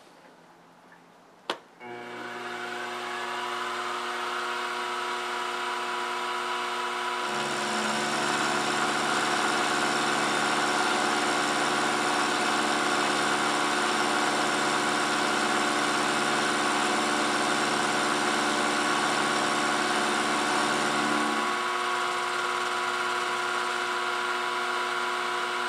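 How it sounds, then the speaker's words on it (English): A milling machine with a slightly worn half-inch carbide end mill cuts hard T-nuts, giving a steady humming drone that starts after a sharp knock, deepens partway through and runs continuously for over twenty seconds. "I'm using a half inch carbide end mill. It's actually a slightly worn one, but these T-nuts are fairly hard, so I'm getting an adequate cut from that"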